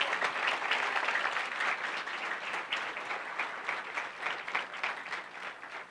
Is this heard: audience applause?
yes